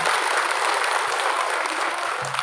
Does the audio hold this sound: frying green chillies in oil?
no